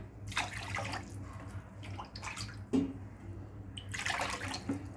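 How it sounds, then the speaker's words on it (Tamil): Water is poured into a pan holding sugar while preparing Bengali rasagulla, a soft running splash that comes in a few bursts, fairly close and moderately quiet over a low background hum. "இதில் வந்துட்டு நான் ஒரு 7 கப் தண்ணி ஊற்றிக்கிறேன்."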